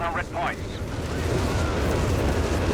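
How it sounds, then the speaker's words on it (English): Artillery barrage in Company of Heroes 3, a dense, sustained rumble of overlapping explosions that fills the whole stretch, with a brief voice talking at the very start. "And we got artillery called in here by Bibotot."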